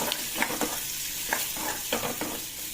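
Turmeric and a pinch of asafoetida being stirred into hot oil in a pan with curry leaves, a steady close sizzle broken by several soft scraping strokes of the spoon.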